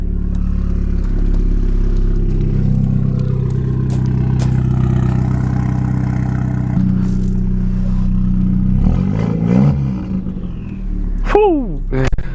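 Loud, droning exhaust of a straight-piped Ford Fiesta ST idling outside, with a deep steady rumble and small throttle swells, then some clattering and a brief squeaky sound near the end.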